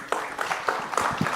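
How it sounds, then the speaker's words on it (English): An audience at a health summit breaks into applause, a dense burst of hand claps with sharp individual slaps standing out, fairly close and loud through the short moment. "A huge round of applause for all our dignitaries."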